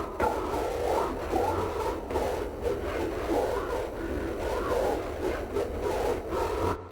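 Whispered vocal sounds played in reverse and pitched down twelve semitones with heavy effects, forming a dense, dark, breathy wash that swells and fades in a slow rhythm.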